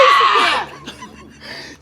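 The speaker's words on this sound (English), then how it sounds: "Jada screams!" A girl lets out a loud, shrill scream of fright, close and brief, trailing into quieter breathy sounds.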